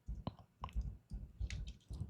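Quiet, close clicking of computer keyboard keys, struck in short uneven bursts with brief pauses between them.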